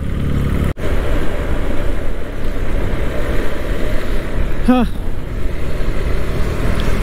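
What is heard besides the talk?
traffic noise heard from inside a car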